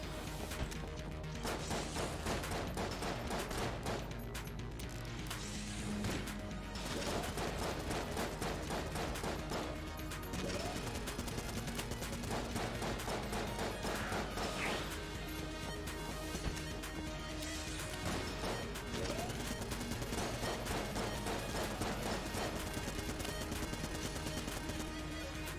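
Enemy gunfire in the bullet-hell game Enter the Gungeon, a constant dense barrage of shots, crashes and impacts layered over game music for nearly half a minute, with no pauses.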